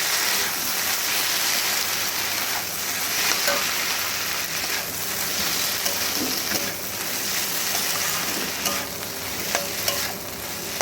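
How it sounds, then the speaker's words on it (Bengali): Chowmein tossed in a hot pan after dissolved cornflour goes in gives a steady, loud sizzle throughout, with soft scraping strokes of the stirring spoon running over the frying noise. "যে কর্নফ্লাওয়ারটা গুলে রেখেছি সেই কর্নফ্লাওয়ারটা এর মধ্যে দিয়ে দিলাম আবার নাড়াচাড়া করে এর সঙ্গে মিশিয়ে দেব"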